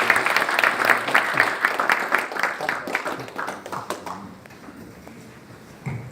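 An indoor audience at a launch ceremony for a national farm produce association applauds to welcome a speaker, a dense burst of clapping that thins and fades over several seconds.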